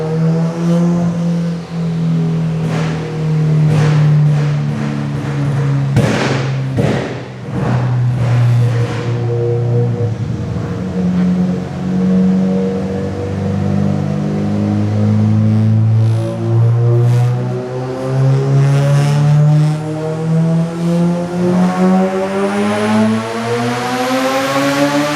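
Turbocharged stock-sleeve B18 Honda Civic on 25 psi of boost during a dyno pull, the engine roaring loud and close as its pitch climbs steadily through the gears for over twenty seconds.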